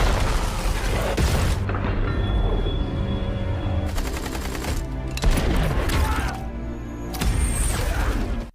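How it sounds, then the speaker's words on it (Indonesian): Rocket-propelled grenade blasts in a war film on a brutal island, heavy booming impacts mixed with rattling gunfire, loud and dense, with a few sharp bursts standing out. "serangan keras dari tembakan RPG yang menghantam ke arah mereka."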